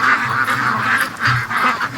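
Free-range ducks quack close by in a loud, overlapping flurry of repeated nasal calls.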